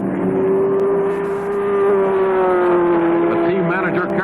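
Race cars at the 1966 Sebring 12 Hours, a Ferrari among them, roar with a sustained steady engine tone that climbs slightly, loud and close throughout.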